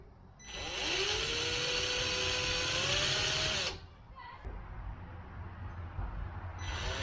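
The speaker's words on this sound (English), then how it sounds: "Now we're going to pre-drill for our screws, for our hardware." A power drill pre-drilling screw holes in a wooden closet door whines loudly at a steady, rising pitch for a few seconds, stops, then briefly starts up again amid light background noise.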